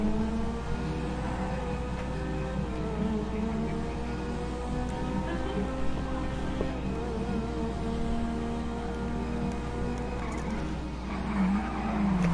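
Bus driving in GTA 5, with a steady low engine drone and rumble throughout, occasional tire squeal-like tones, continuous and fairly loud with no clear talk.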